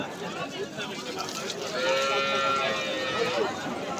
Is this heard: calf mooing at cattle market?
yes